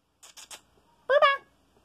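A single short cat meow rings out after three soft tapping clicks, otherwise quiet.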